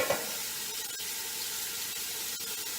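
Seasoned ground beef and pork brown in an aluminum pot for pasta fagioli, giving a constant soft sizzle throughout.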